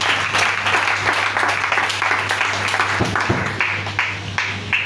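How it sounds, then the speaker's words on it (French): A church congregation claps together, a loud, dense run of hand claps that falls into a loose rhythm and continues throughout. "Si ça te plaît, acclame le Seigneur."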